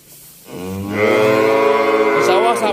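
Limousin cattle, young breeding stock, give a single long, loud moo that swells after a short lead-in and holds steady, close to the listener with no talk.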